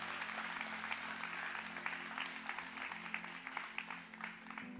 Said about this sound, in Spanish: Una vez más, un fuerte aplauso. Let's give them a hand one more time.